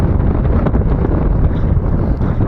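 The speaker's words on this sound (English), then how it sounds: "Here comes a gust." A sustained, roaring gust of wind buffets the microphone during the 2022 Christmas blizzard, loud and continuous for the whole stretch with no talking.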